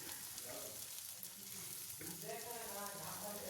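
Capsicum and egg bread roast sizzles on a hot tawa with a quiet, continuous frying hiss. Low murmurs of talk sit in the background.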